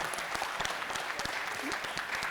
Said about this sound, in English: y'all clap it up for her